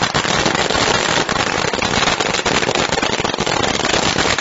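Firecrackers crackle without pause during a village welcome procession with drums for five fishermen, a loud, dense, continuous popping that fills the whole stretch, with no separate voices.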